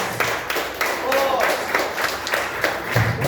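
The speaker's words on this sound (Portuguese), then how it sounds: "Receba o servo do Senhor com as palmas bem alegres para Jesus." A church congregation claps to welcome a preacher at an evening service, a dense wash of applause with loose rhythmic accents running throughout, mixed with voices talking over it.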